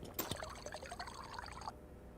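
Water pours in a survival video game set on Mars, a brief bright splash followed by a steady close trickle lasting about a second and a half, with no talk over it.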